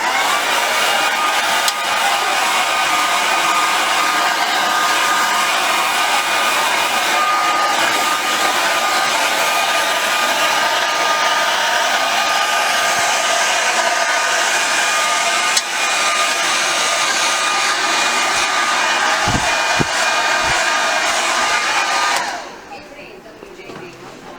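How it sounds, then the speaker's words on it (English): A hair dryer blows out a client's afro hair, a loud, steady close-up roar holding unbroken for over twenty seconds before cutting off abruptly near the end. "One more blowout."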